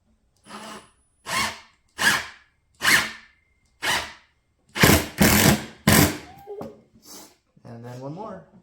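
Power driver sinking screws into a wooden kids' Adirondack chair: a series of short, loud whirring bursts close by, about nine in quick succession with brief gaps, with a voice speaking at the end.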